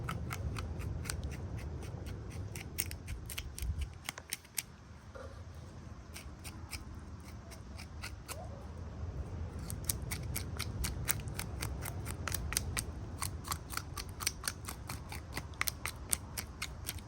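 Rapid rhythmic scraping of a knife over fish scales while cleaning a fish for the grill, a steady run of crisp, close clicks and rasps that quickens toward the end.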